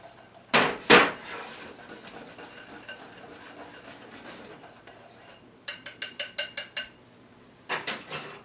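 Crumb topping for a rhubarb cake is stirred in a bowl: two loud scrapes, then a quieter stretch, then a rapid run of clinking utensil strokes against the bowl and a final few taps.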